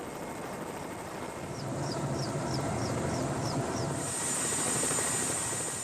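Steady rotor and engine drone of a helicopter hovering close by over marshy ground in Siberia, continuous and fairly loud, with a thin high whine rising near the end.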